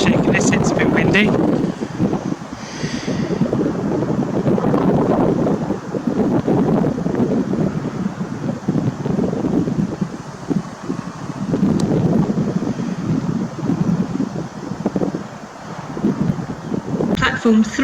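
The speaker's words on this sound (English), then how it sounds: "it's a bit windy." Strong gusting wind buffets the microphone on a railway station platform at Rugeley Trent Valley, a loud continuous roar with rumbling swells and faint background sounds for the whole stretch.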